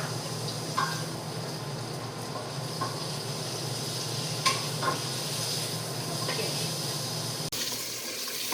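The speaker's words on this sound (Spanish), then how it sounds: "aquí ya se está sofriendo la tocineta" Bacon frying in a small pot for beans, a steady soft hiss of sizzling fat running throughout with occasional light clicks and pops, fairly faint and close, no voices.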